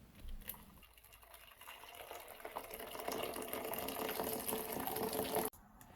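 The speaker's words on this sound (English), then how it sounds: "Boil some water and put it into a jug" Boiled water pours from a kettle into a jug, a rising, filling splash that builds in pitch and loudness over several seconds before cutting off abruptly, close and alone.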